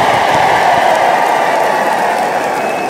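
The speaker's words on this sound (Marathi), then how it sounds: "देवेंद्र फडणवीस साहेब यांचं आपण सगळ्यांनी उभा राहून टाळ्या वाजवून अहिल्यानगर केल्याबद्दल अभिनंदन करावं।" A standing crowd at the Ahilyadevi Jayanti celebration in Chondi applauds in a steady, close, unbroken roar of clapping that lasts the whole stretch.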